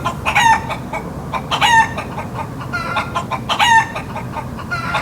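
A chicken clucks loudly and close by in three distinct bursts of rapid, throaty calls spaced about a second apart, with no talk over it.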